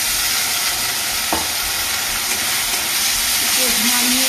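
Cumin powder and other spices fry in a pan with a splash of water for an egg curry, giving a loud, continuous steamy hiss and sizzle, with a brief scrape partway through.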